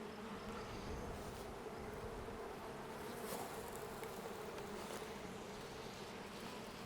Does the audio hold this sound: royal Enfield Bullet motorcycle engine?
no